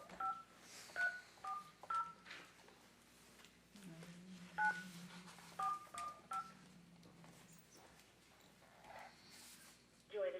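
Telephone keypad tones dialing to join a caller on speakerphone during a county commission meeting, a quick run of short dial beeps in bursts, with people talking faintly between them in a quiet room.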